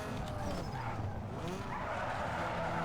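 A modified Nissan Sentra drifting in Need for Speed Underground 2, with continuous tire skid and squeal over a steady engine drone for about three seconds, loud and close, with no voices.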